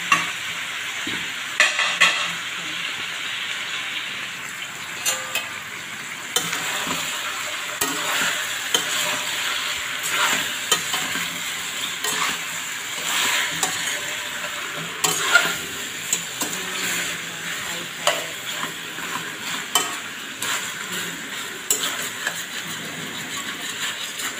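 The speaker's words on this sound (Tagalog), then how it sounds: "ilagay ulit natin yung potato at chicken na sinset aside natin. Haluin natin." Chicken, potato and browned garlic for adobo are stirred and fried in a pan. A continuous sizzle runs under frequent spatula scrapes and clacks for a long stretch, close and busy, with no voices.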